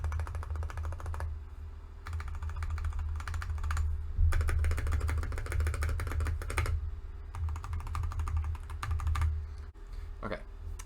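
Mechanical keyboard stabilizers pressed repeatedly on a deskmat, giving bursts of close clacking and rattling key strokes in uneven rhythmic runs, with brief pauses between bursts and a steady low hum underneath.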